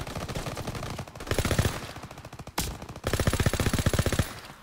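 Rapid bursts of automatic gunfire rattle loudly and continuously in the video game Call of Duty: WWII, with a brief pause between volleys and one sharp louder shot in the middle.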